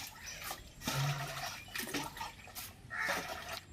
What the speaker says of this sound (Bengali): মাংসটা আমি এখন ধুয়ে নেবো, কিন্তু একদম সুন্দর করে ধুয়ে নেবো